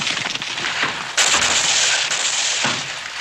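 Distant gunfire in a 1959 television western, with several sharp cracks and bursts over a rough outdoor background, followed by a louder sustained blast of noise.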